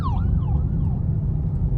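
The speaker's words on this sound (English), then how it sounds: "I heard some sirens and I thought it was the cops behind me" A police-style siren wails with falling, sweeping tones over a steady low road rumble, heard from inside a Dodge Charger SXT while driving, the siren fairly distinct above the engine and tire noise.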